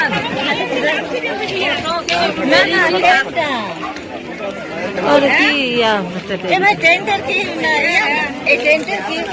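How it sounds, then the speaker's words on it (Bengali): A crowd of train passengers gathered beside the derailed Kamakhya Express, a dense, loud babble of many overlapping voices close by, chattering continuously with occasional louder calls. "এই মুহূর্তে প্যাসেঞ্জারের ভিড় দেখতে পাচ্ছেন"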